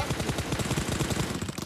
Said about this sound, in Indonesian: Tembak Bang Nadin, kenokin Bang Nadin